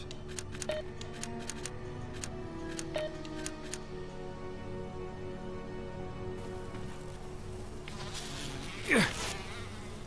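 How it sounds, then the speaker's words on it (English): Swarming bees drone in Resident Evil Remake, a steady layered insect buzz with faint clicks over a low hum, ending in one sharp rising swoop near the close. "Alright, bees."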